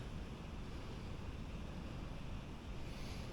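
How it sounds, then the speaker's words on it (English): Running water pouring and churning around a turning water wheel, a steady rushing wash with some wind buffeting the microphone, continuous and fairly close. "It's a water wheel."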